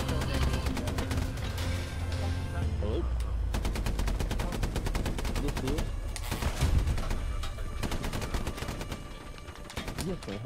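Rapid bursts of gunfire and heavy cannon shots in Hell Let Loose, an armor unit in battle, cracking densely and continuously, loud and close, with voices shouting over the shooting.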